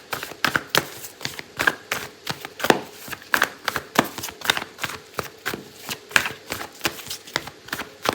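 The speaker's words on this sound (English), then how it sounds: "I'm going to pull out an oracle card for you" Oracle cards are shuffled by hand in a steady run of crisp riffling taps and slaps, close and fairly quiet, repeating rhythmically throughout with no talking.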